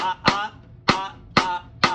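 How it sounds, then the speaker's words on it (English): Four sharp wooden cross-stick clicks in a 2-3 son clave pattern, spaced unevenly, each crisp and dry with short ringing decay, heard alone. "this is a 2-3 clave, son clave, and it sounds like this."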